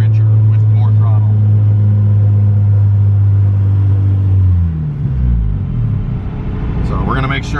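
A turbocharged B18 non-VTEC engine in an EK Honda Civic hatch runs on a dyno, holding a loud steady drone before the revs drop and a sharp higher-pitched surge rises at the end.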